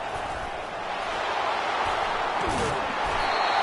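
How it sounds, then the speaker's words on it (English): Stadium crowd in the College Football 25 video game, a broad steady roar of many voices filling the air, loud and sustained, with a brief thud and a rising cry near the end. "This crowd bringing the energy and noise early."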